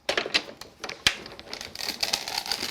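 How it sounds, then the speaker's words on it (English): A die-cutting embossing machine presses pinpoints into card under a tan embossing mat and white Creative Expressions adapter plate, giving a close run of quiet crisp clicks and crackles as the sheet rolls through, one sharper snap partway, no talking. "you can hear those pinpoints going into that card as it goes through"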